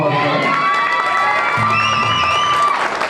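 A school crowd at a high school jazz band fish fry cheers and shouts for a pianist, a loud, dense burst of whoops and yells lasting a few seconds.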